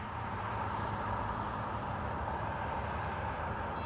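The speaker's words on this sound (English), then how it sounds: "The train 733, Summit to Gladstone. Coming in to make a stop at Far Hills" Passenger train 733, Summit to Gladstone, arrives at Far Hills station in New Jersey near US Highway 202, heard as a steady broadband rumble and rush of the approaching train with no distinct horn or bell.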